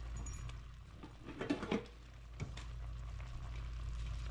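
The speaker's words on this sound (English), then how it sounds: "so we got a boil going on here" Water at a boil in a pot on a stovetop, giving a steady low bubbling rush with a couple of louder splashy bursts partway through, fairly quiet and with no voices.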